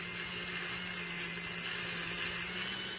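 A Dremel rotary tool grinds on a painted polymer clay pendant, a steady, close, high-pitched whine with a constant motor hum underneath and no pauses.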